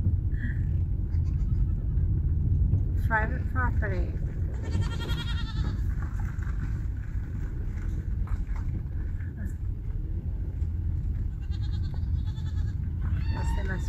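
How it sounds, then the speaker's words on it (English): Goats bleating repeatedly at a rural event site near an abandoned mining ghost town in Oklahoma, the calls overlapping and fairly close over a steady low rumble, with people talking throughout. "But there's more goats."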